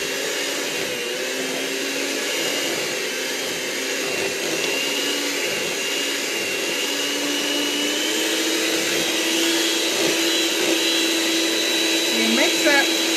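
An electric mixer blends softened cream cheese with pumpkin for a pumpkin butter cream dessert, a loud, steady motor whir that drones on without letup, with voices faintly underneath.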